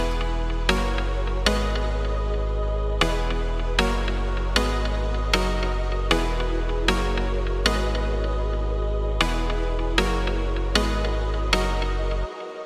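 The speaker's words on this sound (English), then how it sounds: "I just made this little chord pattern" Bright hardstyle synth chords play in a steady repeating pattern, each chord struck sharply with a deep sustained bass underneath, with no voices.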